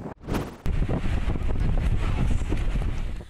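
Strong typhoon wind roars steadily against the microphone in coastal Santa Ana, Cagayan, a loud continuous rush with low buffeting, briefly cutting out near the start before resuming.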